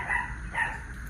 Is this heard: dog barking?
yes